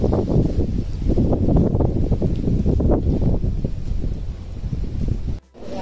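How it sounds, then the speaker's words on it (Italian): Strong wind blows outside a house, a loud, continuous roaring rumble with gusty buffeting against the microphone that cuts off abruptly near the end. "vi voglio far vedere il vento che c'è a casa"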